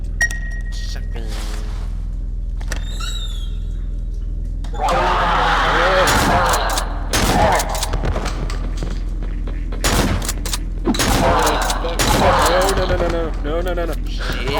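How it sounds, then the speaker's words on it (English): Shotgun blasts in the horror game Cry of Fear: several loud, spaced booming shots with clinking between them, following a quieter stretch. "Shotgun."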